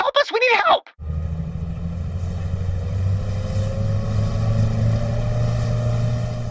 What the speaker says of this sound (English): The yacht's engines gurgled to life.